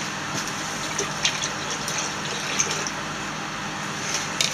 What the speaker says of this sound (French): On va rincer ça.